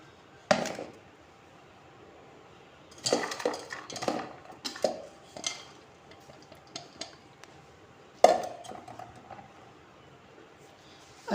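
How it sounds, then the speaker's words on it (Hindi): Cut mango cubes dropped into a large bowl, giving a few soft clattering knocks and scattered taps against the bowl in short bursts between quiet pauses. "एक बाउल लेंगे बड़ा सा, जिसके अंदर मैं देखे क्यूब्स की शक्ल में कटे हुए आम जो है मैं डाल दूँगी"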